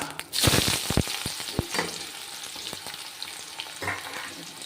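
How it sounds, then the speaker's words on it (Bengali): Onion and garam masala hit very hot oil for a meat curry, opening in a loud, close hiss that settles into continuous crackling sizzle with scattered clatters of stirring, and no one speaking. "তেলটা দিয়ে দিয়েছি তেলটা খুব গরম হয়ে গেছে গরম মশলা দেবো পেঁয়াজ"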